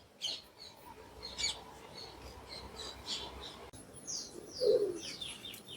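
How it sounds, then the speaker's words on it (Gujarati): Out in the open on a warm morning, pigeons come down to eat grain. Scattered chirps and coos sound at a moderate distance over a soft hum of ambient noise, and a louder low coo rises near the end. "કબૂતર અવાજ સંભળાતો હોય છે તમને."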